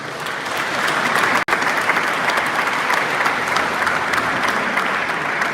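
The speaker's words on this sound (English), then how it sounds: "Round of applause for everyone." A crowd at a dance festival breaks into sustained applause, a thick, even roar of clapping with a momentary cut near the start, continuing loudly to the end.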